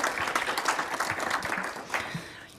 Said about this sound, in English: So can we just give them a round of applause before we start?